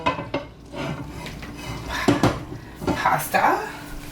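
Spinach moves from one pan into a bigger one, with scattered metal clanks, scrapes and utensil knocks against cookware, several sharp hits close by among kitchen handling noise.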